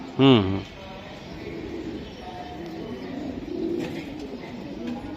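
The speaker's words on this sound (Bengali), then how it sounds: "এই একটা কবুতর আমি দেখাই দিলাম, খুবই সুন্দর" A racing pigeon coos once, close and fairly loud, in a short burst near the start, followed by a low background of room noise and faint murmuring.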